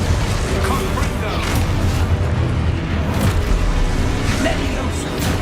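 A Confringo blasting spell exploding in a Harry Potter video game, a dense, booming rumble of blasts running throughout at close range.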